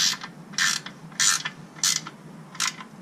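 Ratchet tightening an engine oil drain plug: five crisp clicking bursts in a steady rhythm about every 0.6 seconds, close and fairly quiet with no talking.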